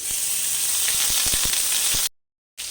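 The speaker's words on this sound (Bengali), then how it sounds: "দুটো তেজপাতা দিচ্ছি দু সেকেন্ড মতো ভেজে নিলাম দিয়ে আমি এক চামচ আদা বাটা দিচ্ছি" Bay leaves and ginger paste fry in hot oil, a close, bright sizzle with a few sharp crackles and spoon clicks, then a brief silent gap before the sizzle resumes.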